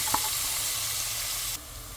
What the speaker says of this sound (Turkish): Tencerenin içine bir miktar sıvı yağ koydum. Hemen soğanı atıyorum.